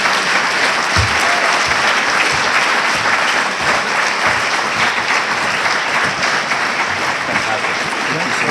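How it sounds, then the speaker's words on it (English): An audience at a Pleasant Hill mayor's breakfast gives the mayor a round of applause, dense and loud clapping that stays steady throughout, with a few sharper claps standing out near the front. "How about another round of applause for our mayor?"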